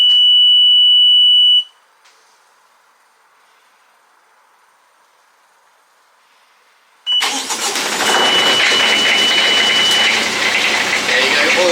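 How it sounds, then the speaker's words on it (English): A boat's diesel engine oil pressure alarm beeps loudly as a steady high tone for under two seconds, then quiet, before the engine fires up at about seven seconds and runs loud and rough to the end. "this alarm would come on"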